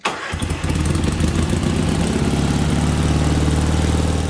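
A Kohler Magnum engine fitted to a Case 446 tractor, its governor newly adjusted, cranks and catches almost at once, then settles into a loud, close, steady idle with no talking.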